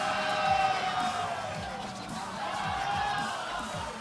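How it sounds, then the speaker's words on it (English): Distant crowd cheering at a DDR (Dance Dance Revolution) tournament, a broad steady roar carrying from across the venue, with a faint voice near the start. "We've got some very loud cheering coming from the other side."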